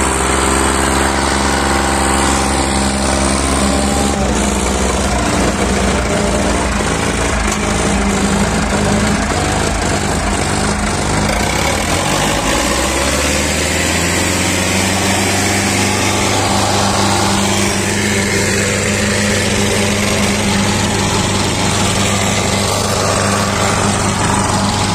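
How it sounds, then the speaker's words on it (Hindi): Eicher 557 and Sonalika 60 HP tractors straining in a tochan tug-of-war test in Haryana. Their engines drone loudly and continuously, with a deep shift in pitch around midway as they bog down under load and then recover, with no talking. "कौन सा ट्रैक्टर पावर मार रहा? दोनों ही अच्छी पावर मार"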